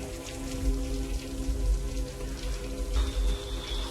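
Rain falls steadily outside a rented house in Brittany, a close, continuous patter with dripping drops and faint low rumbling beneath, no voices heard.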